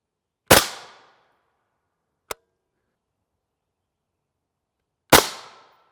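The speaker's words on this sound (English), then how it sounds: "We brought the 20-inch back out for our M855A1 shots." Two sharp, loud rifle shots of M855A1 ammunition from a 20-inch barrel, several seconds apart, each with a quick decaying tail, and a faint small tick between them in otherwise near silence.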